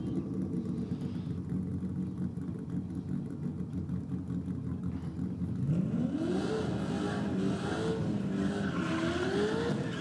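A drag racing car roars down the strip at high speed, its engine note rising and sweeping upward as it passes close and loud, a steady high-pitched drone continuing after the pass.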